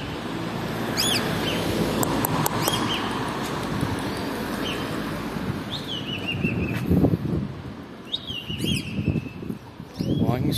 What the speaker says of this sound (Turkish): Ne kadar güzel ötüyor. Bülbül mü acaba?